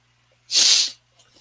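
A single sharp, hissy sneeze close by, short and explosive, followed by a faint breathy sniff in otherwise quiet surroundings.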